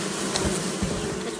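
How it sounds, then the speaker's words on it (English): A dense, droning hum of many honeybees buzzing together as they are poured into a hive, close and steady, with slight rising swells. "That's what it sounds like to be poured into a hive."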